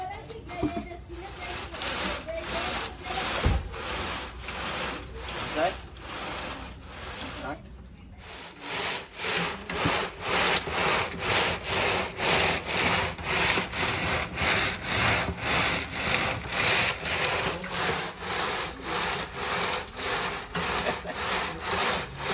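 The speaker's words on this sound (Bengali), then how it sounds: "বাদাম ছাড়ানো মেশিন ছাড় ঠিক আছে?" A peanut shelling machine works steadily, giving a loud rhythmic rasping, rubbing churn of nuts against the mechanism, with a brief pause near the middle before the repeated scraping strokes resume.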